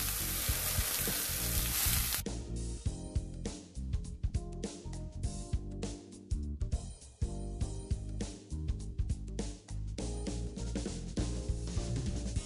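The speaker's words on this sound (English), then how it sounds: "sear it on all sides" Steak searing in a hot pan, browned on all sides with tongs, a loud, close, steady sizzle broken by crackling bursts and brief scraping as the meat is turned, with no voices.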